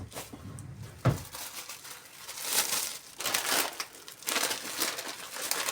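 A small plastic bag of noodles crinkles and crunches in bursts, close and fairly quiet, with one sharp rustle near the start, while soup for Banat-style chicken noodle soup simmers in a home kitchen.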